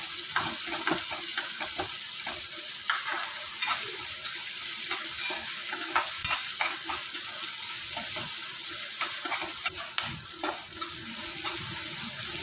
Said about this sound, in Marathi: छान असं परतून घ्यायचं